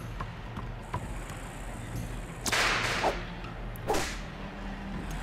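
Two sharp whip cracks snap out in The Legend of Spyro: The Eternal Night, each a bright burst standing above a steady low game hum, spaced about a second apart.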